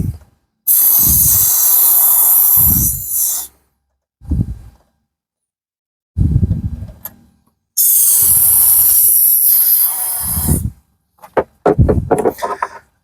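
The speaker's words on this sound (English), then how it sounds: "you just want to spray it really good" Aerosol lubricant sprayed into the cylinders of a 2003 Sea-Doo GTI 717cc engine, long loud close hissing bursts of several seconds each, separated by pauses with brief breaths and small handling sounds.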